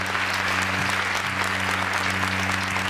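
An audience at a Hindi comic poetry recital applauds continuously, a dense, even patter of many hands over a steady electrical hum from the sound system.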